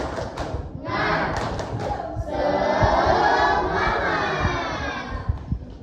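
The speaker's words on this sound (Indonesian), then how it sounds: "Tepuk semangat" A classroom of children doing the tepuk semangat chant, loud shouted voices in unison with rhythmic clapping thumps, close and lively, rising into a sustained group shout.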